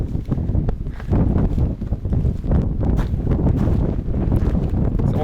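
Wind gusting across an open desert canyon trail in Death Valley, a steady broadband rush buffeting the microphone throughout with scattered footstep-like crunches.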